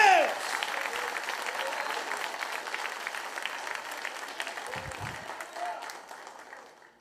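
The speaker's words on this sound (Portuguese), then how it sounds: "você pode aplaudi-lo hoje à noite" A church congregation claps steadily together at an evening Portuguese-language service. The applause is sustained and fairly even, then tapers off toward the end.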